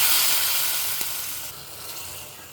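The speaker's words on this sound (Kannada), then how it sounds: "ಸಾಂಬಾರಿಗೆ ಒಗ್ಗರಣೆ ಹಾಕ್ತಾಯಿದ್ದೀನಿ" Hot tempering poured into a vegetable sambar crackles and sizzles loudly and steadily, with a brief pop near the start, then tapers off into a softer hiss.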